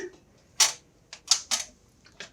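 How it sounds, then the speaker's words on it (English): Keyboard cam being pulled out of a Linotype machine: a series of sharp metallic clicks and clacks, five or six irregularly spaced snaps heard up close with no speech. "now what we're going to do is pull a cam out"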